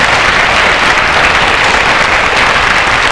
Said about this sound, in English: Give them a nice cheer and a thank you.